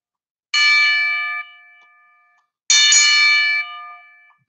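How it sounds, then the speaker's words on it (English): Wrestling ring bell from the video game Face To The Mat Wrestling, struck twice with a bright metallic clang each time, the ringing tone decaying for about a second before the next strike; loud and alone with no talk. "ring that bell over and over"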